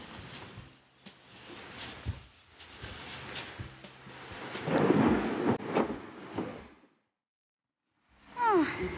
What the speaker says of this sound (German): Es regnet wie verrückt.